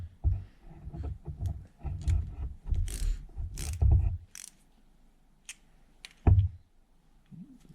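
A ratchet snugging a nut on a Kawasaki F7 motorcycle ignition coil gives several bursts of close clicking over about four seconds, then a single sharp click after a pause.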